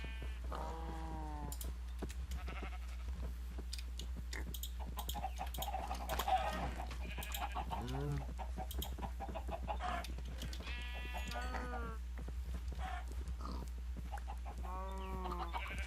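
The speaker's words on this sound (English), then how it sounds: "Let's spawn some extra chickens." Minecraft chickens cluck in short bursts over a steady low hum, with bleating sheep mixed in among the scattered animal calls.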